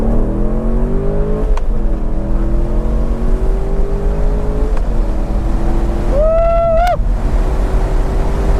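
C7 Corvette engine pulling hard through the gears, a loud close roar with rising pitch, a couple of brief shift breaks and a higher whine near the end, with no talk.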